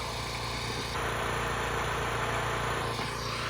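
Small engine idling steadily after carburetor repair, given by a friend because of a suspected bad carburetor, running as a constant mid-pitched drone with a rise in tone partway through, fairly loud and steady.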